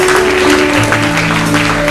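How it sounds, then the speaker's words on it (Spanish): Church congregation applauding after a call to praise the Lord, a loud continuous wash of clapping filling the room with a sustained tone underneath. "Denle un fuerte aplauso a nuestro Señor."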